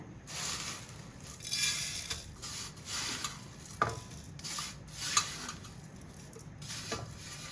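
Ragi semiya roasts in a pan with a little ghee, giving a quiet, soft sizzle broken by scraping strokes of a spatula stirring the vermicelli at an irregular pace.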